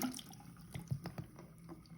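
Water draining out of a sink, a quiet, close gurgle with irregular drips and small sloshing bursts, heard alone with no talk.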